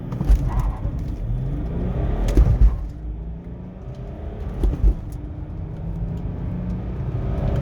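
A 2004 BMW E46 330d diesel with 204 horsepower accelerates hard, its engine a steady low rumble and whir that swells briefly with a few louder surges, heard from inside or close by without talk.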